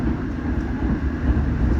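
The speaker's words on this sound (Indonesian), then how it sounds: "kereta api Argo Bromo Anggrek melintas langsung stasiun Karawang" The Argo Bromo Anggrek express runs straight through Karawang station without stopping, a heavy low rumble of wheels and carriages rolling past continuously and loudly, with no talking.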